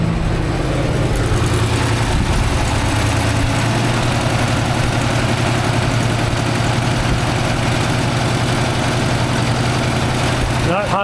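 A 1964 IH Travelall C1100 engine runs rich and bogs, a loud, low uneven rumble with rough pulsing, and someone talks over it.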